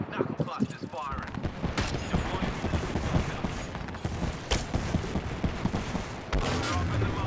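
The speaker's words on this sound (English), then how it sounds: "Stand back, knuckle busters firing." Fuse's Knuckle Cluster in the shooter Apex Legends, a rapid burst of popping blasts and crackling detonations, loud and close, mixed with other gunfire and voices talking.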